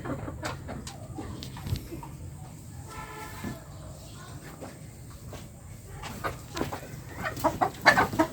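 Chickens clucking in short, scattered bursts with occasional sharper calls, fairly close over a low background rumble, growing busier toward the end.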